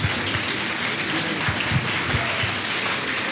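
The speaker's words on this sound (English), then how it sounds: "please give a huge round of applause to Rodney Allen." A conference audience applauds a business speaker, a dense, even wash of clapping that holds steady throughout.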